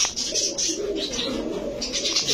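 Rajshahi Giribaz pigeons coo softly and repeatedly at close range, low throaty murmurs overlapping with faint rustling.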